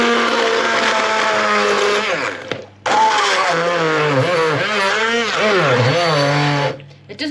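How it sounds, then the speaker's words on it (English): A handheld stick blender whirs loudly and steadily in a kitchen, its motor pitch wavering as it works through the mixture, with a brief cutout midway before it resumes. "you get your stick blender"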